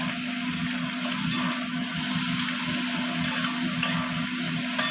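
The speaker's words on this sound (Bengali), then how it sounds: "চিংড়ি মাছ ভাজা ভাজা হয়ে এসছে" Shrimp frying in a pan, a steady close sizzle with soft crackling and a few sharp pops, alone with no talk.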